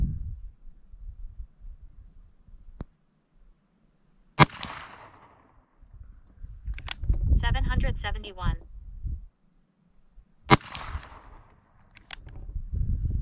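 Ruger revolver shots at an outdoor range, two loud single cracks several seconds apart with ringing tails, between stretches of someone talking and background clatter.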